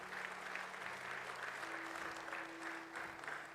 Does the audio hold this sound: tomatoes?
no